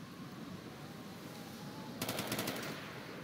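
Rapid machine gun burst in the video game Ghost Recon Future Soldier, a quick string of about eight close, loud shots over steady background battle noise.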